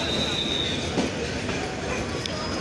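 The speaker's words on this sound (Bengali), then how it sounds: "ঢাকাগামী আন্তনগর ডাউন নীলসাগর এক্সপ্রেস ট্রেনটি বর্তমানে সৈয়দপুর ইন করলো" The Nilsagar Express intercity train pulls into Saidpur station with a loud, continuous, close rumble and a thin wheel squeal, while crowd noise murmurs faintly on the platform.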